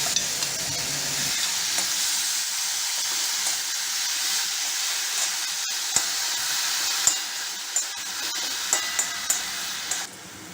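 Gooseberry paste sizzles and fries steadily in a pan, with occasional stirring clinks and scrapes toward the end; no talking.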